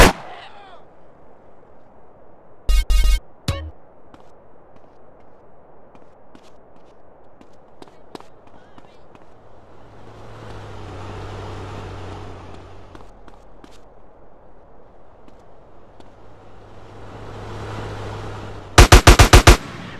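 Gunshots ring out in GTA San Andreas, a sharp burst of loud shots early on, a single crack shortly after, and another loud volley near the end, with quieter movement noises and a passing vehicle rumble in between.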